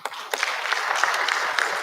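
An audience claps at a biosafety conference held at a lodge in Naivasha, a dense, steady round of applause close by that runs throughout, with no talking over it.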